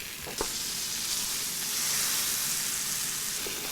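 A stuffed turkey breast roast sears in butter with onions and aromatic vegetables, giving a loud, continuous close sizzle after a brief knock at the start, with no talking.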